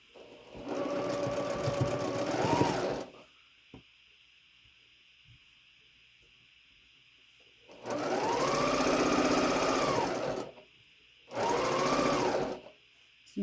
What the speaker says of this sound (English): And now I'm going to sew these together to make my 4-patch